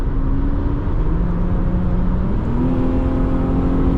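A 2006 Infiniti FX35's automatic transmission kicks down under acceleration, the engine note rising in pitch as a shift occurs, a steady continuous drone heard from inside the cabin with no talking.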